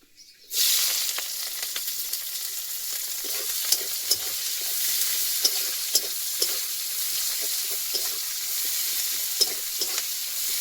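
Onion dropped into hot oil already crackling with mustard seeds and peanuts: a sudden loud burst of sizzling that holds as a steady, bright hiss, dotted with small pops and stirring clicks, close up with no talking.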